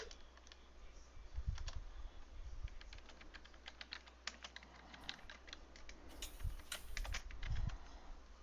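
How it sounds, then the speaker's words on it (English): Someone types on a computer keyboard during a quiet online meeting, with irregular clusters of light key clicks, faint and fairly close, over low background hum. "Someone's typing."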